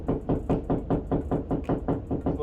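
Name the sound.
knocking on wall to find a stud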